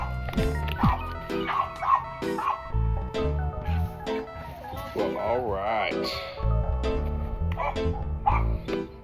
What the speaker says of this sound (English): that's an annoying dog